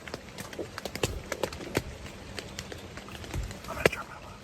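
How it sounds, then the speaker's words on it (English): Footsteps approach outside a tent at night, a series of soft irregular crunching steps, faint and fairly close, with low murmuring voices in places. "I do. I hear footsteps."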